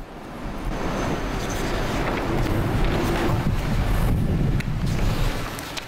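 Strong, gusty wind in Sydney roars and buffets the microphone continuously for several seconds, loud and close, with a low rumble and no voices.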